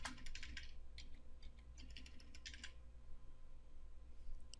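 Faint keystrokes on a computer keyboard as a password is typed during a Debian Linux installation in VirtualBox, with irregular clusters of taps over a steady low hum and no talk.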